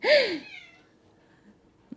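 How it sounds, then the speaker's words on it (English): A house cat gives one clear, drawn-out meow up close, then the room falls almost silent apart from a couple of faint soft bumps. "my cat is there in the background"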